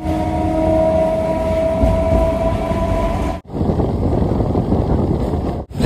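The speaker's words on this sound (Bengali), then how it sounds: "শুনশান ট্রেনে চলেছি।" A passenger train runs at night near Bandel Junction, with a loud, continuous rumble and wheel roar, a tonal horn-like whine in the first half, and a sharp dropout before the rattling resumes.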